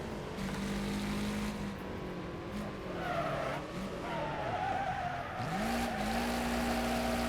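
A station wagon drifts around a corner in the racing game Wreckfest, its engine droning and shifting pitch while tires squeal in a long skid, with revs climbing again at the end and no talking.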